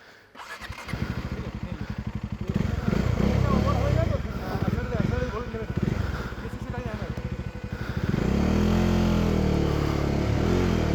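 Motorcycle engine cranks and catches on a hilly Darjeeling road trip, then runs in a loud, close, rapid putter with a brief rise in revs near the end, and people talk over it.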